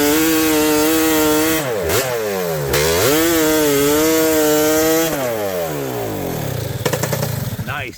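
A chainsaw powered by a 1997 Yamaha YZ250 two-stroke motorcycle engine screams loud and close, its pitch dipping and climbing as it bogs into the wood and revs back up.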